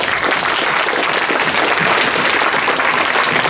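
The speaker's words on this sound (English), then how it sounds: "So why don't we give him another round of applause?" An audience at a smart-contracts panel discussion gives a speaker another round of loud, dense, sustained clapping that fills the whole stretch.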